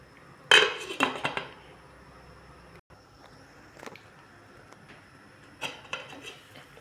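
A metal lid clanks onto a cooking pot with a sharp, close clatter, followed by a few lighter clinks and taps of metal cookware in a quiet kitchen, with no talking.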